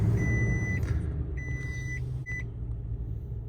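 Toyota Tundra pickup truck idling steadily with a low engine rumble, close by, while short high electronic chimes sound from the dashboard over it.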